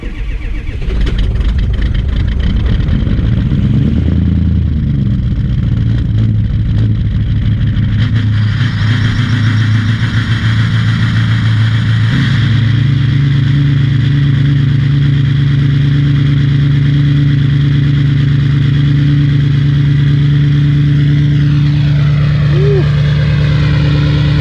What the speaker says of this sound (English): That's one of the worst cold starts I've ever had on any of my diesels.